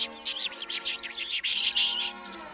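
A cartoon bird chirps in a rapid run of bright, high tweets, close and continuous for a couple of seconds in the Smurfs cartoon.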